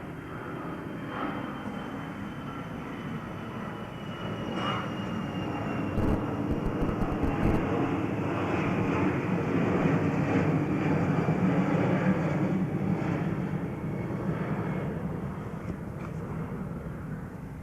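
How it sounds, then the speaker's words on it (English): An airplane passes overhead at an outdoor public talk, a broad continuous engine roar that swells and lingers for many seconds with no speech over it. "We will wait for the airplane."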